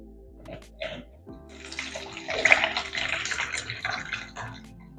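Water is poured into a 1000 ml measuring cup to make black soap shampoo, a close, splashing stream that builds and swells for several seconds after a few soft clinks and knocks.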